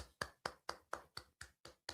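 Nine crisp hand claps in a steady, even rhythm, each one sharp and fairly close. They sound alone, with no voices.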